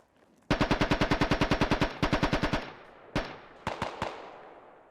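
Rapid automatic gunfire in the tactical shooter Squad: a long, evenly spaced burst of about twenty shots, a second shorter burst, then several single, louder reports trailing off, loud and close.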